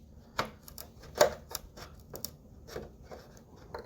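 Scissors snip through material while sections of an RC drift car body's wheel area are cut out, giving a series of short, crisp clicks spaced irregularly, each one close and fairly quiet.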